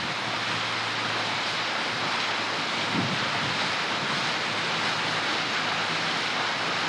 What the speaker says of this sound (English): We have the water that's coming down and cascading off of different ledges